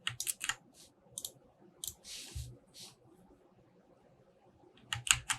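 Computer keyboard keys are pressed in short clusters of crisp clicks, quiet and close, with gaps of near silence between bursts, as a Ctrl N shortcut is typed while working in Unreal Engine 5.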